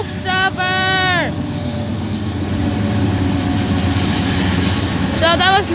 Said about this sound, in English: now Norfolk Southern's going past